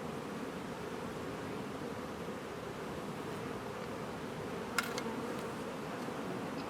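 Dense, steady hum of honeybees swarming over the frames of an open hive in autumn, a continuous buzz close to the ear with one sharp brief click midway and no talking.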